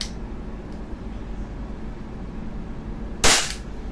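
EMG STI JW3 airsoft pistol with Island Barrel firing one .20 BB in an FPS test, a single sharp, loud crack near the end over a low steady background hum.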